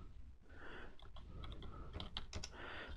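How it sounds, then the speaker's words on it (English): Steady typing on a computer keyboard during 3D drafting work for a tall clock, with quick irregular key clicks and a few sharper taps, close and clear with no talking. "let's go ahead and type in extrude"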